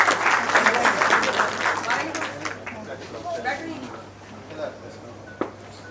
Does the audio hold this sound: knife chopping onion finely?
no